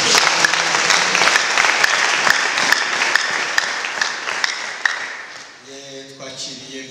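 Hands clap in a dense, steady wave from a church gathering welcoming the Shalom choir, lasting several seconds before thinning out as a voice begins to sing or speak near the end.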